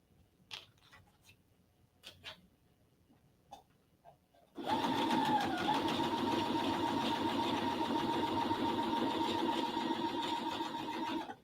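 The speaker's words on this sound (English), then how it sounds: "I'll do it this way, where I just chain stitch them." After a few faint taps, a sewing machine starts and runs steadily at a constant fast hum, chain stitching quilt block pieces for a disappearing nine patch block, close and continuous until the end.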